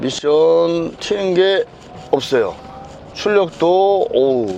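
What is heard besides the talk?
No everyday noises stand out.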